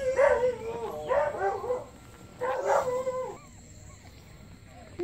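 Puppies only a couple of days old give two short bursts of high yips and whimpers close by, separated by a quieter pause, over low background noise.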